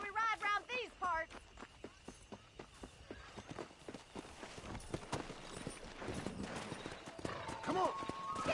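Horse hooves clip-clop in a steady walking rhythm as riders set off, joined by a neigh, with voices talking over the hoofbeats and rising outdoor noise toward the end.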